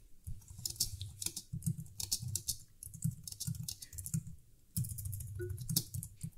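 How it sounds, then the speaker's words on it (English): Steady typing on a computer keyboard, a run of quick close clicks with a brief pause before the tapping resumes. "And here I can type some text about my product."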